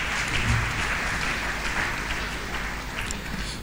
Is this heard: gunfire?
no